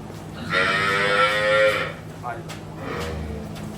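A buffalo on a farm in Tarn Taran district gives a loud, close lowing call lasting over a second, followed by a shorter, softer moo, with faint background noise.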